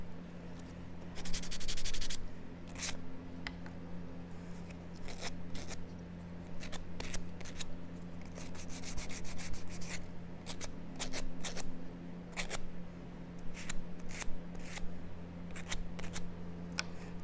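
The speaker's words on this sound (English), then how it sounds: "I'm just going to get the fuzzies off. And you can sand this edge." Sandpaper is rubbed along the edge of a wooden hedgehog pencil holder craft piece to remove fuzz, making short scratchy strokes in irregular bursts, close and quiet, over a low steady hum.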